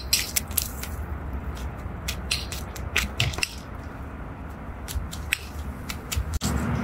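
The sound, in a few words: chisel and hammer removing bark from a wood log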